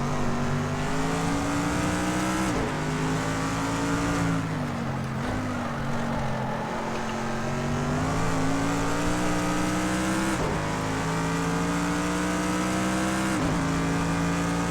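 Touring race cars in Project CARS 2 at Fuji, a loud, steady engine drone that rises with acceleration and dips briefly at gear changes, with other cars blending in close by.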